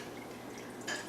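Almond milk drips through a clean tea towel set in a strainer over a container, a faint, close, steady trickle with a slightly brighter splash near the end.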